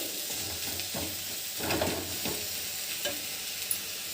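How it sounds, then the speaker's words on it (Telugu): Coriander leaves frying in a pan, a soft steady sizzle broken by several scraping stirs that come in short bursts, close and fairly quiet, with no one speaking. "ఒక్క 5 నిమిషాలు ఈ కొత్తిమీర వేసిన తర్వాత కొంచెం పచ్చికం పోయినంత వరకు వేగించుకుంటే సరిపోద్ది."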